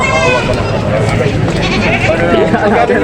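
Native goats bleat repeatedly at close range at a busy goat market, over a noisy outdoor background with people talking and haggling nearby.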